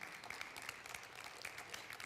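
A church congregation applauds after a sermon, a steady, faint wash of many hands clapping at a distance with no voices over it.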